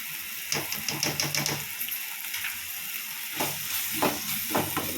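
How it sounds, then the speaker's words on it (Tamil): Quiet frying sizzle of chicken gravy with turmeric, with clattering, rhythmic stirring strokes against a pan, a short lull in the middle before the stirring resumes. "மஞ்சத்தூள் போட்டுட்டு நல்லா அந்த கிரேவியை வதக்கணும்."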